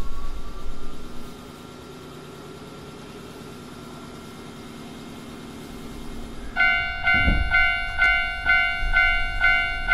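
A quiet rolling hum of a city tram in Minecraft runs steadily, then a chiming tonal signal and rhythmic rail clatter start up near the end.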